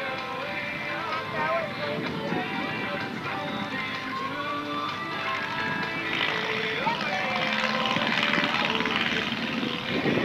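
A clip-wing Taylorcraft light airplane decelerates on the ground after landing at an air show, its propeller engine a steady mid-distance drone while an announcer talks over it.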